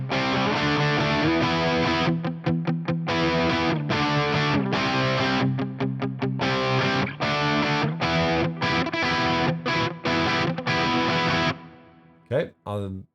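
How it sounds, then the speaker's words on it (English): Electric guitar rhythm tone through a Fractal FM9 with reverb and no delay, loud distorted chords played in choppy stops and starts, ringing out before a few final scratchy hits. "here's the rhythm sound. No delay, just some reverb."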